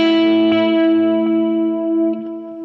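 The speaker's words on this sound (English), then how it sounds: "And then on to the Studio Plate. This one should be really bright" A sustained electric guitar chord rings out through a bright, shimmering plate reverb pedal on its Studio Plate setting, fading slowly with a few light string touches.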